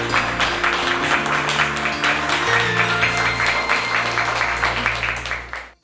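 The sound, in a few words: audience applauding guest's arrival on stage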